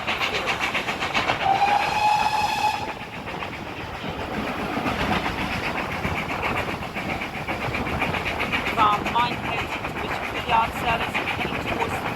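Steam locomotive 7828 hauls a train close past on the West Somerset Railway near Stogumber, rumbling with rhythmic chugging and wheel clatter, and a brief whistle sounds near the start.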